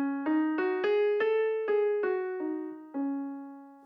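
Eight separate plucked or sung pitches of a seven-note blues scale rise and then fall in an even, steady rhythm. They are clear and loud, with no talking.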